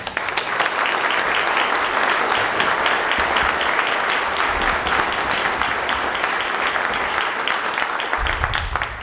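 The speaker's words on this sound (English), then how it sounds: "I think they deserve a round of applause" An auditorium audience at a 28th District candidates' debate applauds the candidates, a steady, dense wash of clapping that holds loud and even for the whole stretch with no voices over it.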